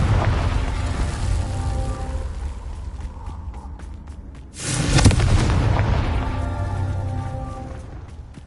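A Confringo spell explosion in the Hogwarts Legacy video game: a loud fiery blast erupts midway, followed by a rumbling tail, over a steady game background.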